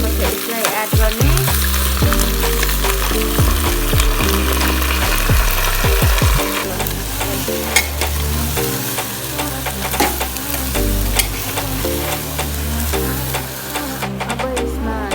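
Garlic frying in a pan with radish and soaked falgi added, a steady close sizzle running throughout with stirring scrapes and clatters, strongest in the first few seconds.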